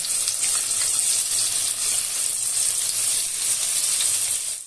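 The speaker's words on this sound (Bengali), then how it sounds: "ট্যাংরা মাছটা ভেজে নিচ্ছি" Tengra fish frying in oil in a pan, a steady loud sizzle with bright hiss that holds evenly throughout without any voice.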